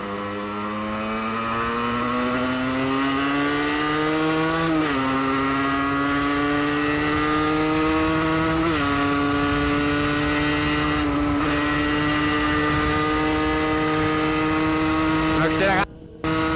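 A car engine revs up at a mechanic's garage, its tone climbing steadily in several long, rising pulls, loud and close throughout, with a brief cut at the very end.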